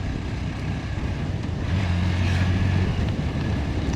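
A new 2025 Bajaj Platina 100 OBD2B motorcycle on a test ride, with a steady low engine hum mixed with rushing wind noise, continuous and moderately loud with no talking.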